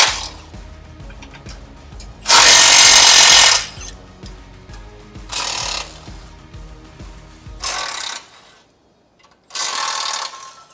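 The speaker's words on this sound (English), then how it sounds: "Next thing we'll do is we'll pull these radiator supports with a 14mm socket." A ratchet with a 14mm socket loosens the radiator support bolts on a 5th-gen Toyota 4Runner, producing loud bursts of rapid clicking separated by short pauses, close up and without talk.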